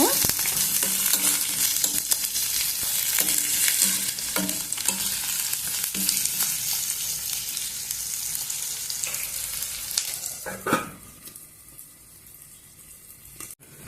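Moth bean curry sizzling in a pan over the heat, a continuous close frying hiss with occasional stirring scrapes and clicks, dropping off near the end.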